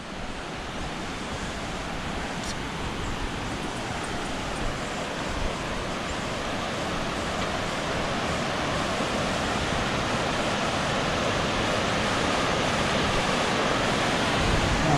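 A river in the countryside near Ibagué, Colombia rushes steadily, a dense continuous roar of flowing water with some wind buffeting, growing slightly louder over the stretch.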